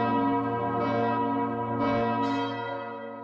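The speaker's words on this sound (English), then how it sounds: "In the Middle Ages, the church's bells kept time and marked the rhythms of daily life in Paris." The bells of Notre Dame cathedral in Paris ring out loud and full, with several overlapping strikes whose rich tones hum and slowly fade.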